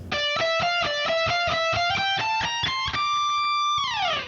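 A distorted electric guitar plays a fast run of notes climbing upward, ending on a held note that bends down, loud and sustained.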